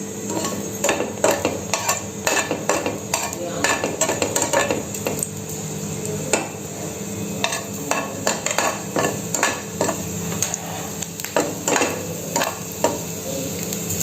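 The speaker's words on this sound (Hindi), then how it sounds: "अब मैं इसमें गार्लिक ऐड करूंगी। मैं इसको थोड़ा सा फ्राई करूंगी।" Garlic fries in hot oil in a pan for white sauce pasta, a soft sizzle under frequent close clinks and scrapes of a spoon against the pan.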